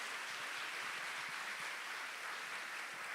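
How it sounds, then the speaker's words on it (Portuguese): A steady wash of audience applause at a literary panel honoring a guest, dense and even throughout, heard at a distance and fairly faint, with no voices over it. "uma salva de palmas para ela, maravilhosa"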